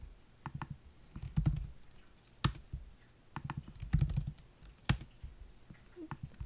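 Keys clatter on a computer keyboard in quick, irregular bursts and clusters of taps, close and fairly quiet, with brief pauses between runs while R code is edited.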